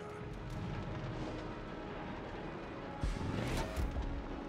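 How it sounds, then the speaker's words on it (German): Warship turret guns fire in World of Warships: a dense rumbling bed of naval battle noise, with a louder boom and crashing burst near the end. "Egal mit wie viel Türmen du auf mich schießt"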